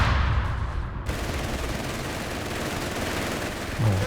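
Assault grenades detonating in the Company of Heroes 3 real-time strategy battle, a loud cluster of blasts and crackling gunfire rolling on continuously with dense low rumble and no talk.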